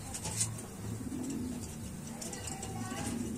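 A pigeon coos near a rooftop, its low repeated calls fairly close and soft under ambient outdoor noise and someone speaking Filipino.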